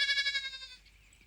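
A sheep at clipping time gives one close, wavering bleat with a fast quivering tremolo that fades out after under a second, followed by quiet.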